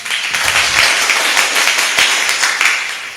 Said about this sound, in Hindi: आपकी जो ताली है ना, बहुत कंजूसी वाली थी। अगली बार जरा जम के बजाना।